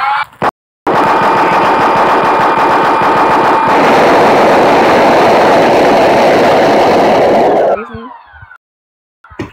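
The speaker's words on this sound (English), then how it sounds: "They got the minigun explosive" Explosive minigun in a Minecraft PE gun mod blasts in one loud, continuous stream of rapid fire and booming impacts for about seven seconds, then cuts out abruptly.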